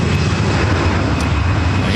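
Lufthansa Airbus A340-300 jet on short final to runway 24 right at LAX, a loud continuous engine roar and rumble filling the whole stretch, with a voice talking over it.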